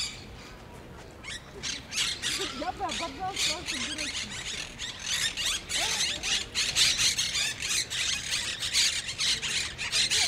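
Parrots squawk and screech around their nests in a pine tree in a Barcelona park, harsh overlapping calls in rapid bursts, fairly near, while people speak in Russian over them.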